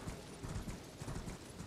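Horse hooves clip-clop in a quick, regular galloping rhythm while riding in the video game Elden Ring, soft and fairly faint but continuous across the moment.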